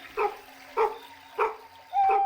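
In an Unreal Engine game, a dog barks four times in an even rhythm, each bark close and clear over a quiet steady background hum.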